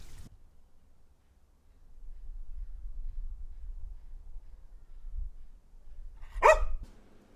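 A single sharp dog bark, close and loud, breaks a near-silent stretch of faint low rumble toward the end of the clip.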